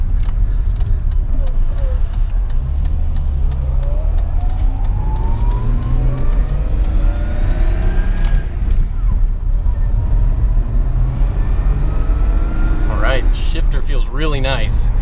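A BMW E30 engine revs under way, its rising and falling pitch sweeping as the car accelerates and shifts, with a person talking over the steady drive.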